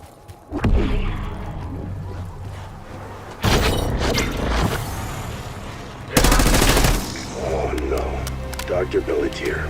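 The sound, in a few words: gunfire in the video game Black Ops 6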